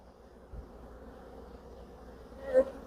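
Honey bees buzzing around an open hive during an inspection at an apiary, a faint steady drone with one brief louder pass of a bee near the end, with no talking.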